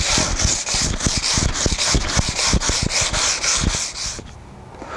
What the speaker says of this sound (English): I'm going to be sanding for a while.